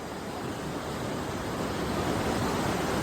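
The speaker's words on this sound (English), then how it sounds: "Water's coming down the river here pretty strong." A flooded river surges well over its banks after several days of high water, giving a loud, continuous, dense rush with no break and no voices.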